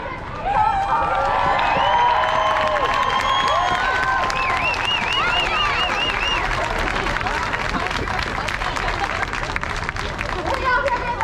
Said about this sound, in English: One more round of applause for our